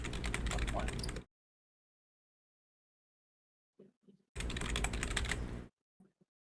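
Computer keyboard typing in two dense bursts of rapid key clatter separated by a long silence, with a couple of faint isolated taps between and after, close to the microphone.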